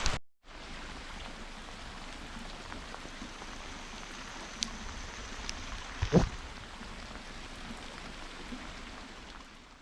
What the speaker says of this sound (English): The rain continued to belt down